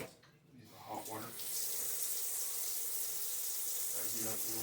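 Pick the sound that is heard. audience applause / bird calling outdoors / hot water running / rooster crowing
hot water running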